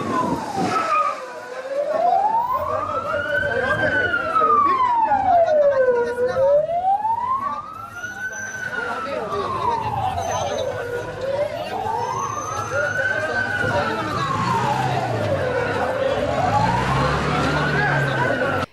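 Emergency vehicle siren wailing at a paint depot fire in Reyhanlı, rising and falling in long slow sweeps over nearly twenty seconds, loud and close, with engine rumble and street noise beneath.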